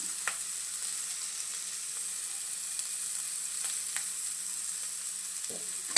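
Grated coconut with a pinch of turmeric frying in oil for tomato bath gives a steady, close, bright sizzle and hiss throughout, broken by a few soft stirring clicks and scrapes, with no voices.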